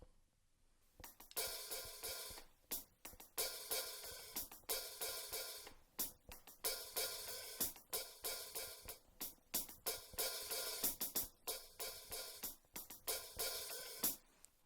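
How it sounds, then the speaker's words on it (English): A solo hi-hat pattern played on a drum kit, crisp, dense cymbal ticks repeating in a busy syncopated rhythm, close and steady with no other drums. "So the hi-hat by itself sounds like this."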